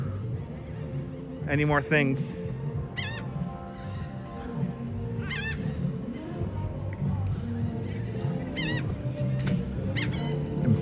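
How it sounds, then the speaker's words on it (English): Seagulls give repeated squealing cries on a gloomy, showery beach day at Coney Island, Brooklyn, fairly close in several scattered bursts over steady wind and crowd murmur, with someone talking. "The seagulls are pissed off at me right now because I'm not feeding them any more"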